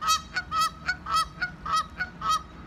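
Several geese honk in a rapid, repeated series of nasal calls, fairly close and clear, with no talking over them.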